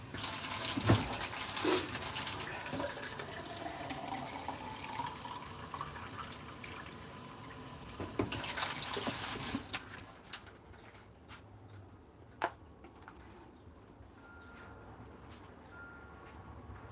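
Water runs from a tap into a cat's bowl, a steady filling rush for several seconds before cutting off, leaving a few faint drips and clinks in a quiet room.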